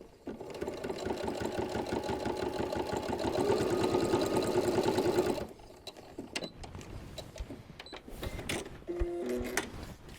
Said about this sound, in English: We're gonna sew right along this short edge.